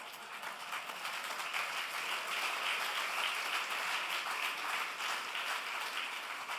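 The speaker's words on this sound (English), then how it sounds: "The reason why your council members and mayor are clapping so hard is they know who this person is" Council members and a mayor clap hard at an economic development summit, a dense, steady wash of applause that holds at an even level from start to finish.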